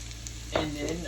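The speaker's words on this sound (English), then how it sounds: "give it a nice stir and let that gnocchi start to cook" Potato gnocchi sizzles in a hot pan seasoned with Italian seasoning, garlic powder and black pepper, a quiet steady fry with a brief scrape of stirring midway.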